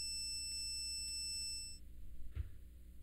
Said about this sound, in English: the meter's buzzer will sound